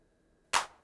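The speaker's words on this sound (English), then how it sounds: "this is a hand clap sound" A single sharp hand clap from an EMU Morpheus synthesizer, a bright snappy burst with a short decaying tail, heard alone after near silence.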